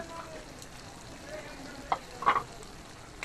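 Fried fish heads are stirred into cooking greens, a faint low sizzle broken by a few clattering spoon-and-pan stirs near the end.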